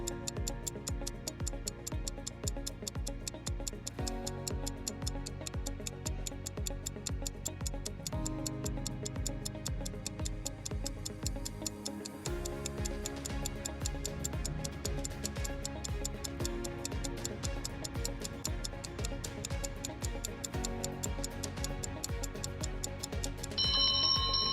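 A timer sound effect ticks in a steady, even rhythm for the full stretch, close and prominent, mixed over a looping musical background with no speech.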